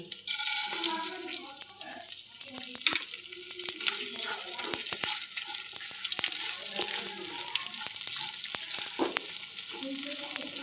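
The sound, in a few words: frying washed Gobindobhog rice in a pan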